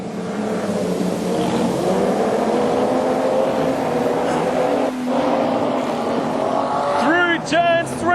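Nostalgia sedan race cars lapping Carina Speedway, a steady loud engine roar running throughout with a brief dip near the middle and some rising squeals or whines near the end, with a commentator talking over it.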